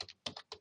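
Quick clicky keystrokes on a computer keyboard, including the Enter key, come as three close pairs of crisp taps, near and fairly quiet, with no talking.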